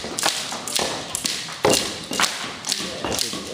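Stones knocked against each other at a sound-making workshop, giving a string of sharp, dry taps and knocks at an uneven pace, close by, with a soft background murmur.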